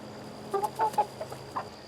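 Young roosters and a hen feed on sprouted grain, giving a few soft clucks and short calls at close range over a steady background hum, with no voices.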